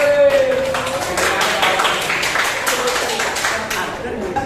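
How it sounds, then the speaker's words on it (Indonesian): A classroom of students claps for a presenting group, with brisk, dense clapping that runs steadily. A voice is heard briefly at the start. "Kasih tepuk tangan untuk kelompok 3."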